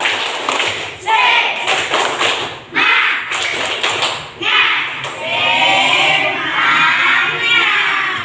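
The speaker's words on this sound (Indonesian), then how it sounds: "sekarang kita tepuk semangat dulu" A classroom of students performs the tepuk semangat spirit clap, with quick patterned bursts of clapping and thumps, then voices and children shouting once the claps stop.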